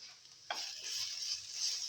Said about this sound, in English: Now put in the ginger garlic paste.